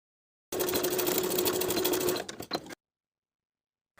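A sewing machine stitches a drawstring onto the front casing of pajama shorts, a steady close mechanical whir running about two seconds before stopping, followed by a couple of short handling clicks and then quiet.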